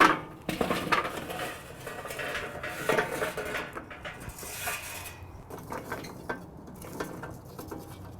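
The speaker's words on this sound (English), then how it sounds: "Now I'm going to add 1 full charcoal chimney, or about 100 briquettes, to the slow and sear charcoal basket." Charcoal briquettes poured from a chimney into a slow and sear charcoal basket in a kettle grill, a clattering rush of hard lumps tumbling against metal, close and fairly loud, then settling into scattered knocks.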